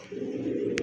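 A female pigeon of an old-breed pair gives a single short, close coo, low and throaty, lasting under a second with no other sounds.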